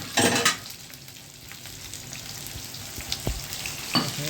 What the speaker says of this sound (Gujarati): તો આમાં હું થોડુંક પાણી નાખી દઉં, વઘાર બળી ન જાય ને.